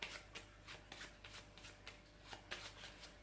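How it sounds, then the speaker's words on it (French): A spectator shuffles a deck of playing cards in soft, rapid riffling bursts that repeat in a loose rhythm, quiet and close with no talking. "Le spectateur va mélanger le jeu."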